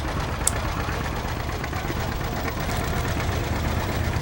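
An old Ford 8N or 9N 'Red Belly' tractor, the kind used for pulling a wagon, idles at a show with a steady low putter beneath broad outdoor noise.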